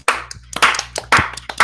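A few loud, sharp hand claps in an uneven burst, with a steady low hum underneath.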